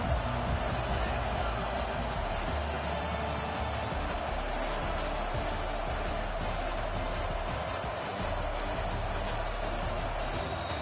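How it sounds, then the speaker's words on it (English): Dense, steady roar of a big stadium crowd ahead of a football game, constant and loud throughout, with voices and shouts blended into the wash of noise. "This crowd bringing the energy and noise early."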